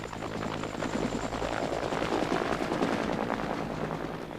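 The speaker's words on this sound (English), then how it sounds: "A close friend of the royal family takes off in an army helicopter." An army helicopter taking off fills the clip with a loud, steady rotor chop and engine roar that stays close and even throughout, with no voices.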